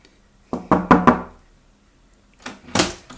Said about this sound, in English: Remember, knock knock.